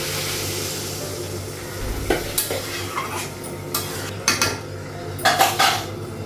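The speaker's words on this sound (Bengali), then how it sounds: "ঢাকনা দিয়ে ঢাকা লাগালাম" A metal lid goes onto a cooking pot of soybean and potato curry with a few sharp clanks and clinks, up close over a steady background sizzle.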